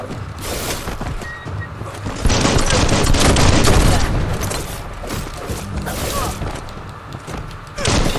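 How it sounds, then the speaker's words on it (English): Shotgun fire in the Biomutant video game comes as loud, repeated blasts in bursts, mixed with booming impacts and mechanical clatter, while a voice talks over the action. "he's got a shotgun"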